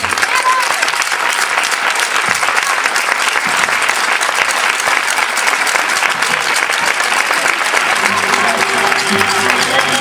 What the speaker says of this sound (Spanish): Para él, mayor fuerte aplauso que se lo ha merecido.